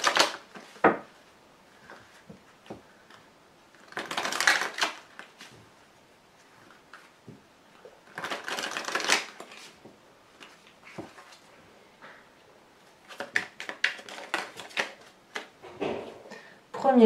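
Tarot cards are drawn and set down on a table, with soft bursts of shuffling and card slaps, separated by quiet stretches and light taps.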